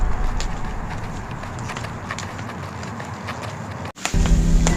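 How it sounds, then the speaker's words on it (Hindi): Horse hooves clip-clopping in a steady rhythm as a prince rides at night toward an enchanted pond in a forest, in a Hindi cartoon story; the hoofbeats run continuously, fairly close, then cut off near the end as a new tone begins. "एक रात वो चुपचाप घोड़े पर बैठकर तिलस्मी तालाब के पास पहुंचा।"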